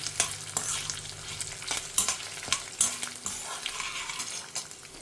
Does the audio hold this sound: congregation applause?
no